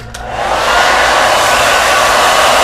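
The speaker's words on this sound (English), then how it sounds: "I'll take the blow dryer" A hair dryer switches on and rises to a loud, steady whooshing roar that holds for a couple of seconds, very close, drying a person's hair.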